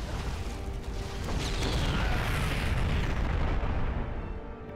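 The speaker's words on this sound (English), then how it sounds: "With an explosion that rocks the surrounding area" A Terran base building explodes in a StarCraft II match, a loud sustained rumbling blast that swells, holds for several seconds and fades, with crackling debris on top.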